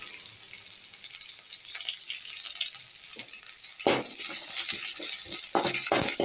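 Onion sizzling steadily in hot oil with ginger and green chilli while rava kichadi is cooked in a pan. Sharper scraping and clattering from a utensil break in during the second half.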